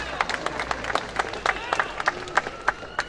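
A crowd at a mayor's installation ceremony in North Miami gives brief, scattered applause, with separate claps popping in an irregular rhythm over a murmur of voices.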